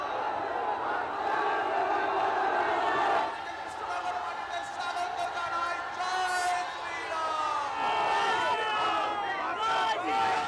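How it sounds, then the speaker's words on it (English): A huge, dense crowd roars and cheers continuously at an outdoor roadshow rally for India's Prime Minister in Krishnanagar, West Bengal, a steady wall of voices with shouts rising and falling throughout. "A huge crowd gathered to greet the Prime Minister during the rally."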